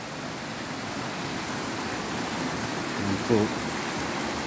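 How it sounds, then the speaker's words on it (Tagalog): River water flows steadily on Mt Banahaw, a constant broadband rushing wash at moderate distance, with a brief spoken voice near the end. "tatawid po kami dito sa ilog"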